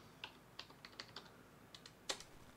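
Quiet, uneven keystrokes on a wireless keyboard as a Raspberry Pi password is entered, about ten soft clicks spaced apart, the last one slightly sharper.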